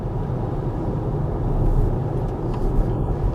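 Steady low road rumble inside the cabin of a 2025 Tesla Model Y while accelerating, a continuous broadband hum that swells slightly midway, with no talking.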